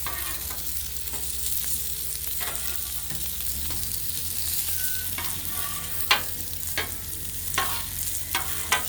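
Sausage sizzles steadily on a hot Blackstone griddle, crisping fast, with a continuous hiss broken by several sharp scraping clicks of a spatula toward the end.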